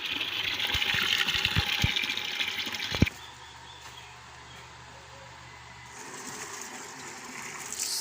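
Water running and filling for farm animals to drink in a hot village yard, a splashing stream that stops abruptly with a knock partway through, leaving quiet outdoor ambience with birds before faint water noise returns.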